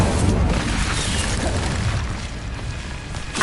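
A fire spell cast in a fantasy wizarding video game erupts as a dense, roaring burst of flame that holds steady at a loud level for about three seconds, with a fresh flare right at the end.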